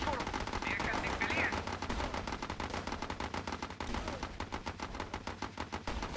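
Rapid, continuous gunfire from all batteries firing at once in the video game Battle Islands Commanders, with dense bursts of shots under faint background voices.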